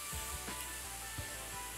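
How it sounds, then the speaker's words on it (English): Morphe Continuous Setting Spray is spritzed onto a face in a few quick, soft, misty hisses, faint and close, with no talking. "the setting spray of the year for me has actually been the Morphe Continuous Setting Spray"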